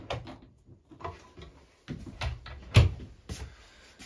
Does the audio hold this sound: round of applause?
no